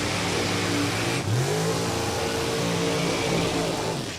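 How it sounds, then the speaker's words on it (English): Drag racing cars do burnouts at a dragway, a loud, continuous roar of high-revving engines with a rising pitch sweep midway, heard close and without pause. "Burnouts handled on both sides of the racetrack here."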